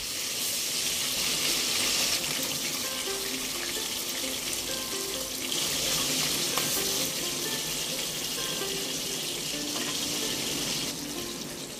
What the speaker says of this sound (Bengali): এবার ওই একই তেলে মাছগুলোকে ভেজে নেব।